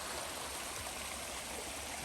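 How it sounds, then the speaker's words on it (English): A babbling brook on a forest trail flows steadily, its close, even water noise filling the clip alone without any voices. "As we watch the babbling brook, we wonder if it too watches us."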